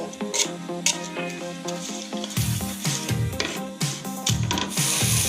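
Ginger, garlic and onion paste fry in a pan for a whole chicken roast. A loud, steady sizzle comes with repeated scraping stir strokes against the pan.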